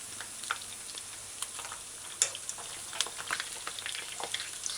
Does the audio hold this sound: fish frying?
yes